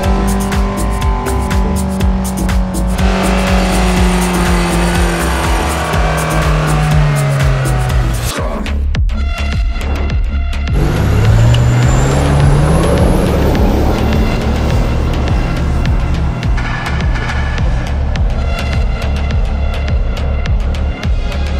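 Off-road car on all-terrain tyres climbing a steep hill in a video game, engine droning loudly and continuously with rising and falling revs.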